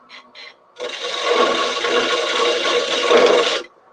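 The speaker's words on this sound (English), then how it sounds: "I'm doing a mortise." A mortise is cut into red gum wood with a hand tool, starting with two brief scrapes and then a long, close, steady rasping scrape, with no talking.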